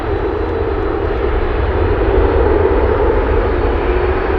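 A brand new Boeing 737 MAX 8 on a delivery flight roars steadily and loudly close by, its jet engines producing a continuous broadband rumble with a low drone that holds even throughout.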